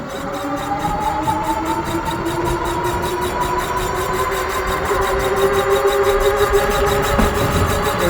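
An ActBest Pioneer moped-style electric bike runs on throttle alone, its motor giving a steady close whine that climbs slowly in pitch over a constant rush of wind, with no talking.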